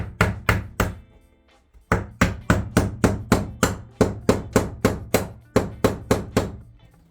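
Sharp hammer blows strike a punch to drive a screw through during floor removal in a Niewiadów N132 camper trailer, about twenty close, loud, evenly spaced hits with a short pause near the start.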